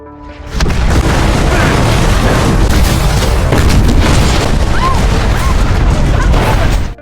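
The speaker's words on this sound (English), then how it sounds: "A violent explosion occurred, severely disfiguring Kruger's face." A loud, sustained explosion rumbles through a film scene as a ship is blasted, the dense roar starting abruptly and holding steady for several seconds with scattered crackling bursts.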